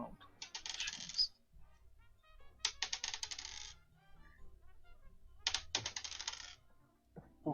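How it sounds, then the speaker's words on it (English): Dice rattle and clatter in three separate bursts of bright, rapid clicking, each lasting about a second, with quieter gaps and a low background hum between them. "Who keeps rolling fucking dice?"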